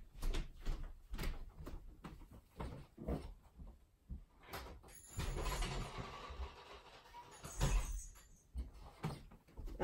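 A door opens and shuts as a dog is let outside, giving rattling thuds and a sliding, scraping sweep amid shuffling handling noises, close by and moderately loud, with no talking.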